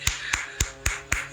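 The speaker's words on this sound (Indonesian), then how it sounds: "Saya tepuk tangan dulu ya, hore." One person claps hands five times at a steady, unhurried pace, each clap sharp and close by, during a talk on an interfaith debate.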